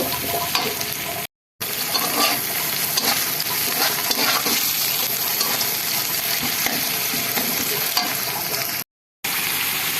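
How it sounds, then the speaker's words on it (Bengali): Dried fish sizzles and crackles in hot oil with onion and garlic, stirred steadily in a pan. The frying stays loud and continuous, with two short breaks of silence. "তো এখন হচ্ছে রসুন আর পেঁয়াজটা ভালো করে ভেজে নিব। আর এটার মধ্যেই হচ্ছে এখন আমি শুটকি দিয়ে দিব।"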